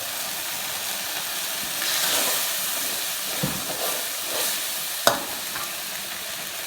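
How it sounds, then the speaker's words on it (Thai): Tamarind juice poured into a simmering Thai tilapia curry (chu chee), giving a continuous close hiss and sizzle with faint stirring and a sharp tap near the end. "ใส่น้ำมะขามเปียกครับ"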